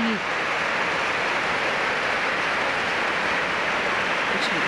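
A rushing mountain stream in the Grand Canyon of Crimea gives a steady, loud, broadband rush of churning water that runs unbroken throughout, with no talk over it.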